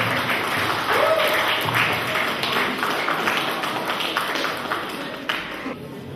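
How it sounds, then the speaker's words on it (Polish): Audience applause at the close of a concert at MOK Kobyłka, steady dense clapping filling a hall, loud and sustained throughout with a slight fade near the end. "Raz jeszcze gorące brawa dla kolego z Radymina"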